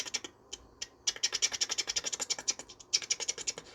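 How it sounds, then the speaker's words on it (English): A hand knife carving and scraping a slightly warped, wavy piece of reclaimed mahogany for a floating corner desk. Quick, close, rhythmic rasping strokes come in bursts, alone without talk. "I'm just gonna carve that bit out with a knife"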